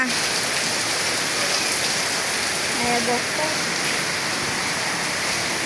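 Steady rain pours down outdoors at a house, a dense, even hiss of drops on surfaces that continues without a break, close and moderately loud, with faint indistinct sounds briefly underneath.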